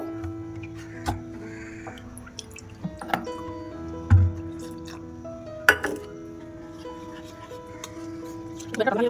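Water poured into maida flour to make soft roti dough in a home kitchen. Quiet drips and trickles come with light mixing squishes and an occasional tap of utensils.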